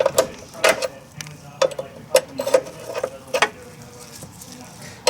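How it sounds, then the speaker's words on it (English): Wrench tightening a jam nut on a DeLorean brake line, scattered metallic clicks and ratcheting ticks in irregular bursts, close up against a quiet workshop background. "Then we'll go ahead and tighten that jam nut"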